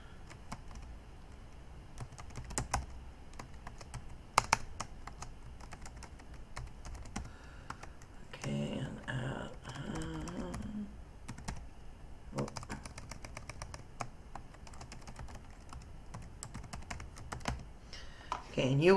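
Computer keyboard typing to log in, irregular light key clicks spread through the whole stretch, close and fairly quiet, with a short burst of muffled talk in the middle.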